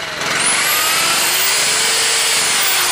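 An electric drill running off a generator whines loudly and steadily at high speed, a continuous close grinding tone with no talk.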